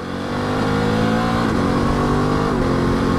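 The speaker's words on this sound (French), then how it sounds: "La sonorité, typique Ducati, hein, c'est hyper sympa" A 2022 Ducati DesertX motorcycle engine revving, loud and close, a dense sustained roar with rising and falling pitch through a few gear shifts on the move.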